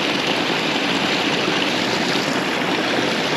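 Waterfall pouring into a pool at its base, a steady, loud, broadband rush of falling water that continues unbroken with no talk.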